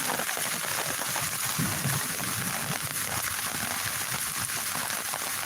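A downpour of heavy rain falls without letup, a constant loud hiss and patter of drops on surfaces, close and enveloping, with no clear talk over it.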